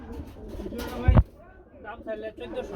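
Chila pigeons kept in pairs in a loft, with soft low cooing under background chatter and one louder low burst near the middle.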